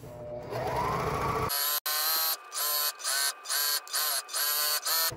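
A sewing machine stitches the frayed edges of a silk worship flag, first in a steady run and then in a rapid series of short, evenly spaced bursts, loud and close.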